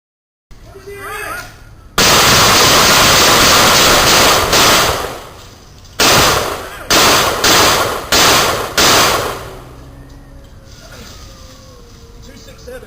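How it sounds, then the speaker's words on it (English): A rapid volley of loud gunshots during a police shooting at a house, bursts of sharp cracks in several clusters close by, followed by quieter radio-like chatter and voices. "Shots away. Shots fired."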